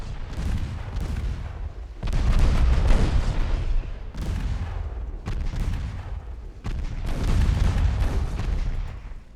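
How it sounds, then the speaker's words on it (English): Heavy naval gunfire from warships in a Ultimate Admiral: Dreadnoughts battle booms in repeated loud volleys, each thunderous salvo rolling into the next with a dense, sustained rumble and no voices. "Continue firing over there."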